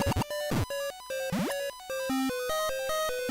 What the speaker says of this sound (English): I don't care about your Wario bubble sound